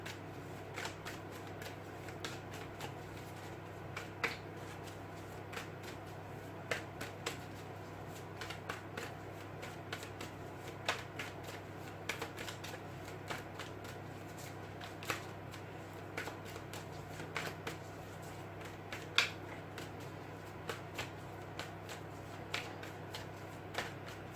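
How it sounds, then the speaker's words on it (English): A deck of tarot cards is shuffled by hand in a quiet room, giving a long run of soft riffling and light snapping clicks that go on and on. "I'm going to give it 3 more shuffles"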